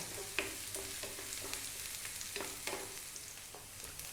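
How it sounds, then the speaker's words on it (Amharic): Onions frying in olive oil over medium heat, a soft steady sizzle with a few faint clicks of stirring, quiet and close, with no talking. "እሳታችንን ማዕከለኛ አድርገን ሽንኩርታችንን እንጠብሳለን ለ3 ደቂቃ"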